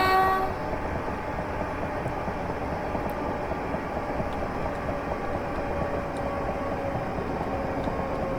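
A Class 375 electric multiple unit in Train Simulator Classic sounds a short horn blast on the Medway Valley line, followed by a steady, continuous rumble of the train running along the track.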